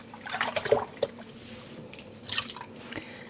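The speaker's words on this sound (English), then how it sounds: "And I'm squeezing out the water." Water drips and trickles from rinsed cashmere yarn as it is gently squeezed by hand over an old ice cream container, with a few soft, close drops and splashes amid a faint wet patter.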